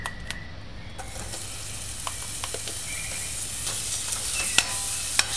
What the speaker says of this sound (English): Allow it to saute light golden brown on the edges.